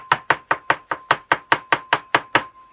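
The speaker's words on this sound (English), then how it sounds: "cut off the end like that, and then cut the slices" A knife slices through mushrooms on a cutting board, about a dozen crisp, evenly spaced chops in a quick steady rhythm, close and clear with no talk.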